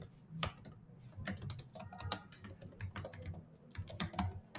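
Fast typing on a computer keyboard while writing a multi-line Python string, with close, crisp key clicks in uneven bursts and short pauses, and no talking.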